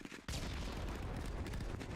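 Gunfire in a shooter video game erupts abruptly after a brief quiet start, then continues as a dense stream of rapid shots and impacts, loud and sustained to the end.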